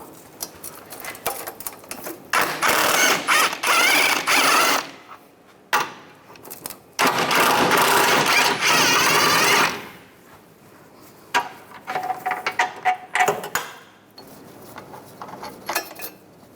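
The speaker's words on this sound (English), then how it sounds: "I'm going to use a 16mm socket. Take these two bolts out." Bolts on a 2007-2013 Mini Cooper engine mount being removed with a 16mm socket during CV axle replacement: bursts of loud rapid ratcheting and metallic clatter, separated by short pauses and lighter clicks.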